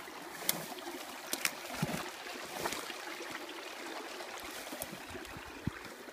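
A small brook on a woodland trap line flows steadily with a faint, continuous trickling and babbling, soft and close, with occasional small splashes.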